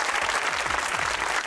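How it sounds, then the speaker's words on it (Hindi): Steady studio audience applause on a comedy talk show, a thick, even roar of many clapping hands at full level throughout, with a faint low voice briefly underneath. "तालियां होनी चाहिए"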